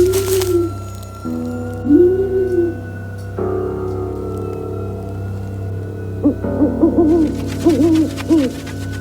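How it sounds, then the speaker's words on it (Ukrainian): Repeated soft, rising owl hoots over a low steady hum, with a quicker series of hoots near the end. "Сова,"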